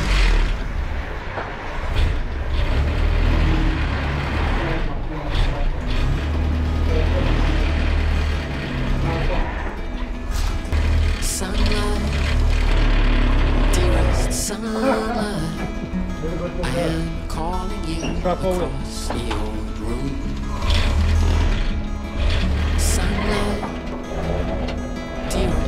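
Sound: Land Rover Series 1 107 being driven on test drive

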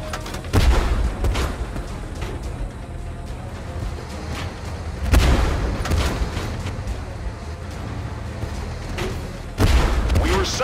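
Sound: artillery bombardment explosions in Tank Force video game

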